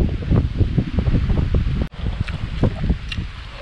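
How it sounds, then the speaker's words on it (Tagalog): Strong wind at a campsite in Kaliraya buffets the microphone in continuous low rumbling gusts, with a brief drop partway through before the blustering resumes. "Masyado malakas yung hangin"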